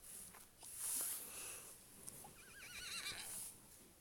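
A horse neighs and whinnies in the Horse Riding Tales video game, with a wavering call rising partway through over soft game ambience and faint hoof clatter.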